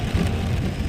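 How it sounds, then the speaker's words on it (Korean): Heavy rain pours steadily at a harbor during strong winds, a dense continuous hiss and patter lasting the whole second, loud and close with no voices. "비 엄청 많이 와갖고"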